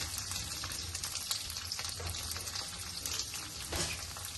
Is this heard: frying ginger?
yes